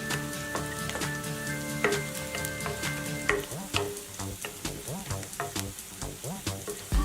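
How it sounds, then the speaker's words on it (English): Whole garam masala spices hit hot oil with softening onions in a pan, giving a steady close sizzle and crackle with scattered sharp pops and a few utensil clinks throughout. "Now in goes your whole garam masala."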